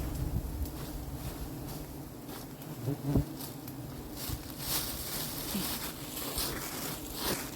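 A swarm of giant honey bees buzzes around a honey hunt, a dense, continuous drone close to the microphone with wind gusts and occasional handling knocks, and no speech.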